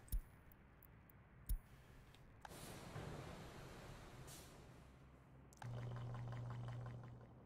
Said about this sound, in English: we are filling up the water tank there